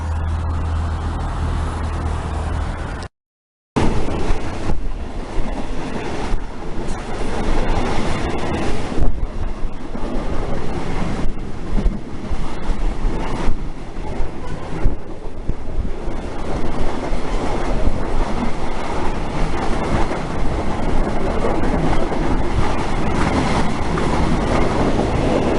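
A train rolls along the rails for a long stretch before a metro connection, with a constant loud rumble, wind buffeting and rhythmic clicking from the wheels, interrupted by one brief dropout near the start.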